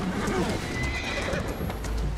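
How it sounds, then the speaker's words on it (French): Horse neighing with clip-clop hoofbeats in the video game Assassin's Creed Syndicate, a whinny over steady clopping mixed with game ambience and faint background voices. "Cheval,"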